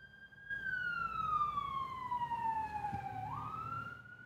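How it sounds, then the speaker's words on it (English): A wailing emergency siren sweeps slowly downward in pitch, then jumps back up, with low traffic rumble underneath; no talking. "oh my God, these sirens."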